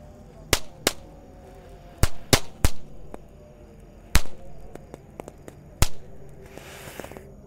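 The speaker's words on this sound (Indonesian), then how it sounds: "di sini ada mercon tank Thor. Langsung kita nyalakan. Sudah menyala." A Thor tank firecracker burns during a Ramadan night. It gives a string of sharp, loud cracks and pops, some close together and some spaced a second or so apart, and ends in a short hissing burst.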